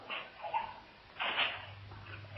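A dog barking from a TV set, a few yips and barks with a whimpering tone, moderately loud and somewhat muffled, over a faint low hum.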